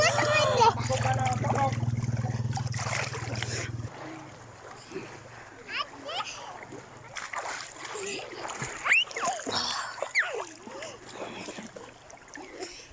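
People swimming in clear seawater, splashing water around in the surf while voices talk and call out over the noise; a denser burst of splashing opens, then lighter, intermittent splashes continue.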